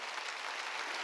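Applause from a church congregation during a Sunday worship service, a steady wash of many hands clapping at once, heard alone and fairly faint throughout the short moment.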